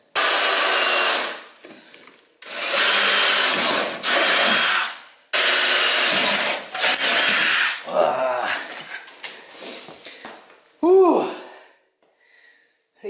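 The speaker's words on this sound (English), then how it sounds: "Guy bent over drilling holes." A power drill whirs in several long bursts separated by pauses, loud and close, winding down with squealing bites as it drills holes in steel plate.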